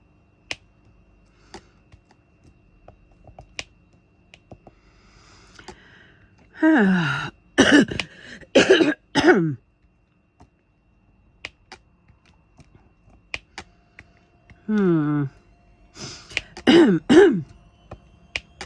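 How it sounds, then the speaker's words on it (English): Two bursts of harsh, throaty coughing, each several hacks in a row, separated by quiet with faint clicks and snaps between them. "Got the cough again."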